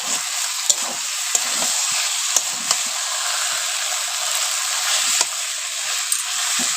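Meat sizzles steadily while it is stir-fried in a pan for kosha, giving a continuous hiss with occasional sharp scrapes and clacks as it is stirred, and no voices.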